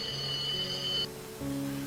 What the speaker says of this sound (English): The operator calls by ringing a bell.